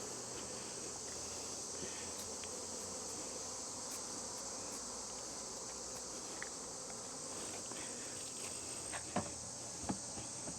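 Honey bees hum around an open hive as frames of fully capped honey are pulled in August, a steady dense drone throughout with a few close sharp buzzes passing near the end.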